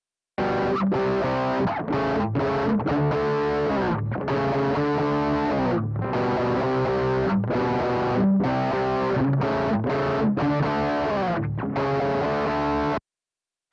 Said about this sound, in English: More distortion.